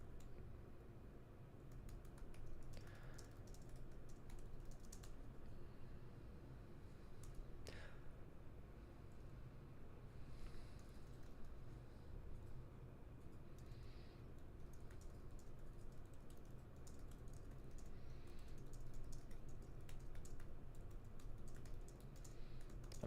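Computer keyboard typing goes on steadily and faintly through the whole stretch as a soft, continuous patter of keystrokes with no pauses, set against a low background hum.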